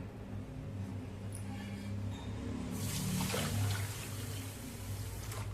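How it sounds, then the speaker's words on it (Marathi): Water splashes and swishes in a vessel as finger millet grains are rinsed, faint and close, over a low steady hum, growing busier partway through. "ही नाचणी आपण 2-3 पाण्याने स्वच्छ आधी धुवून घेऊया"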